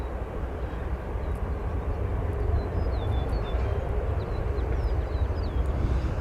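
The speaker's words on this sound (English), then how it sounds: "That's a 737-700 operated by United departing there." A United Boeing 737-700 departs O'Hare Airport, its steady jet roar rumbling at a distance, mixed with wind on the microphone, with faint bird chirps above and no talking.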